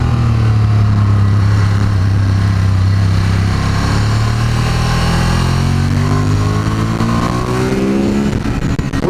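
A Ducati Monster 1200 S motorcycle on a test ride, its engine droning loud and steady, with the pitch climbing near the end as the rider accelerates.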